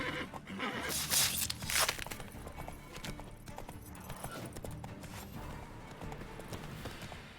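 Horse from The Witcher 3 video game, with a steady clip-clop of hooves and a loud whinny about a second in, then continued trotting against a busy game soundscape.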